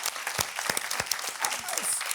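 An audience applauds at a talk event, a continuous patter of many hands clapping at moderate loudness.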